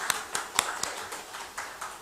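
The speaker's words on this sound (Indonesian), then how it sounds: "mohon kasih tepuk tangan untuk para calon bupati kita" Scattered handclaps from an audience at a 2020 public debate for regency head candidates in Way Kanan, a sparse, uneven clapping of a few hands heard fairly close, with no voices.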